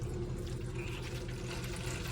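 Water runs steadily from a motorhome bathroom hot and cold tap, a continuous close rushing flow with no spluttering, alone.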